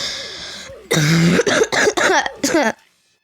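Four or five harsh, rasping coughs burst out close and loud in quick succession after a short, quiet pause.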